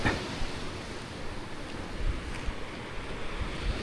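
Constant roar of wind and breaking sea surf during strong northeast monsoon winds, broadband and steady, with gusty buffeting on the microphone and no voices.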